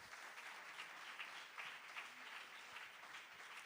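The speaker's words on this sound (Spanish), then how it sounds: "un aplauso para nuestros hermanos" Steady applause from a church congregation at Sunday school, even and sustained, heard from a distance in a large room.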